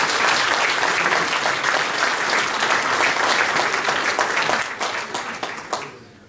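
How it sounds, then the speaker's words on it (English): A crowd at a chamber of commerce business awards night claps for an award recipient: dense, loud, steady applause that holds for several seconds, then thins and tapers off toward the end. "a round of applause for John Marshall"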